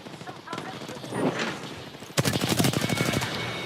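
Rapid automatic gunfire in the battle royale game Apex Legends, a burst of quick evenly spaced shots erupting loud and close after a stretch of quieter game ambience and voice chatter.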